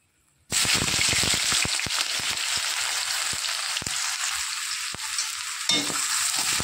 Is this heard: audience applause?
no